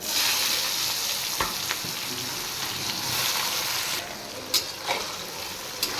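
Chopped onions fry in hot oil with cloves, cinnamon, whole dried red chillies, mace and nutmeg for a mutton curry: a steady, close, dense sizzle with a few soft spoon knocks against the pan.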